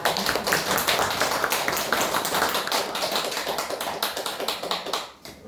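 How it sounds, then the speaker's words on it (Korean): A church congregation applauds at a Sunday concert, the dense crowd clapping steady and loud before fading out near the end. "모두 힘찬 박수로 환영해 주시기 바라겠습니다."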